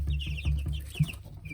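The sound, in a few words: chickens clucking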